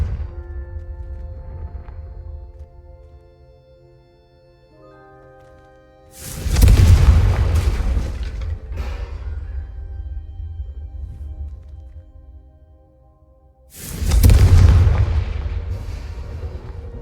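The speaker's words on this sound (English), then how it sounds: "a Confringo cast travels a bit farther than that of a spell like Incendio" Two heavy Confringo spell blasts from Hogwarts Legacy, each a loud booming burst with a long rumbling tail, spaced several seconds apart over a quieter tonal musical background.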